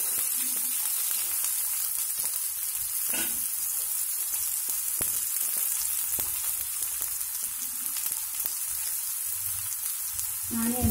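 Two large chopped onions sizzle steadily in hot oil for a home-style raw cashew curry, a dense, close frying hiss with faint occasional stirring knocks and no talk.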